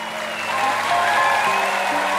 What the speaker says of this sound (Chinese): 掌声有请了不起的穆教练，有请